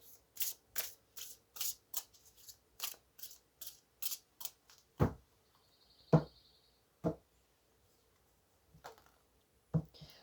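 Oracle cards shuffled for a reading: a quick run of crisp, close riffling snaps, then a few slower, louder taps and knocks as the deck is handled, in a quiet room.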